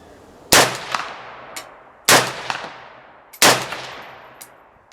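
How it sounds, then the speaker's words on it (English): Three sharp, loud single shots from a Romanian RPK MD64 rifle fired off a bag, each cracking sharply and then ringing out in a long fading echo, spaced about a second and a half apart. "we're shooting off of a bag because I just want to see what the rifle can do"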